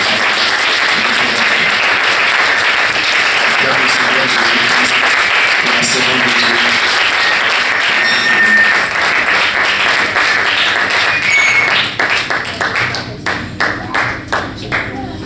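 A church congregation applauds loudly and steadily, a dense wash of clapping that thins out near the end into scattered, separate claps.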